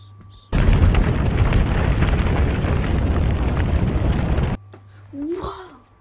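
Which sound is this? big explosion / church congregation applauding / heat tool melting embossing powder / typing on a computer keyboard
big explosion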